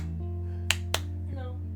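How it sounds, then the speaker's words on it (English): Two sharp hand claps about a quarter second apart, crisp and close, over a steady low electrical hum with faint background noise. "Maybe if I do the clapping."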